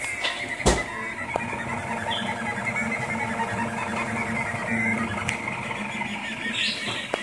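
A Rostock MAX 3D printer whirs and hums continuously while printing a small Minecraft pickaxe, its stepper motors buzzing with a couple of sharp clicks, close and moderately loud.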